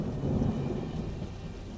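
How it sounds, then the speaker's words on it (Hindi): Heavy rain pours steadily with a low, rolling rumble of thunder underneath, a cartoon-style storm sound effect for a dark jungle night scene, loud and continuous. "बाहर घुप अंधेरा है, बारिश की तेज बूंदें गिर रही हैं"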